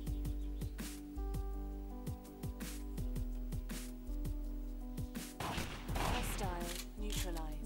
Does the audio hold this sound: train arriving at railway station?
no